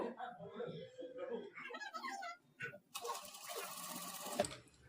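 A sewing machine stitches crossed pieces of piping together, a dense steady mechanical whirr in the last couple of seconds that follows a stretch of close talking.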